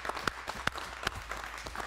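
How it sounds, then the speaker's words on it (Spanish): Faint scattered applause from a small crowd, with a few sharper individual claps standing out in an uneven rhythm. "Eso sí merece un fuerte aplauso de todos estos enamorados de acá."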